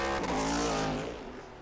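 Trans Am race cars, including a Ford Mustang and Porsches, roar past close by at Road Atlanta, a loud engine howl that sweeps down in pitch as the cars pass and fade.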